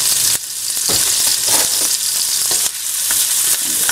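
Garlic sizzling in a pan for ratatouille, a loud, bright frying hiss broken by repeated stirring scrapes and short pauses, close up with no talking.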